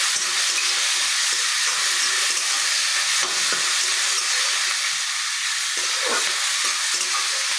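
Food frying in a pan with salt and green chilli, a steady close sizzle with bursts of stirring and scraping running through the whole stretch, no voices.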